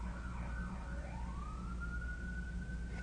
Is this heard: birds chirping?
no